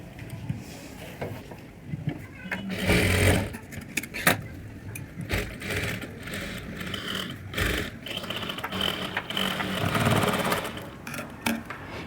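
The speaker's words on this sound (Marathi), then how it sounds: "आता हा जो गळ्याचा शेप आहे त्याला असं ठेवून एक सेंटर शिलाई मारू" A sewing machine runs in bursts as it stitches a centre seam along the shaped neckline of a heavy bridal blouse, its mechanical whirr rising and falling with short pauses between runs.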